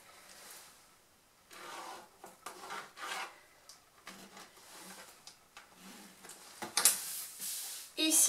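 Pen or chalk tracing 10 cm marks on fabric for sewing a basket, heard as close, intermittent scratchy rubbing strokes in short bursts with brief pauses, a sharper rasp near the end.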